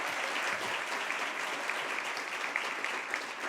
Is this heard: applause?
yes